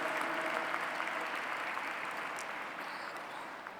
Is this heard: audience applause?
yes